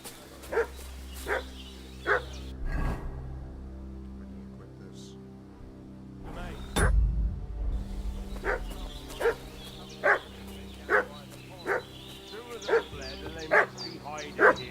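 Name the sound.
dog barking in Kingdom Come Deliverance 2 video game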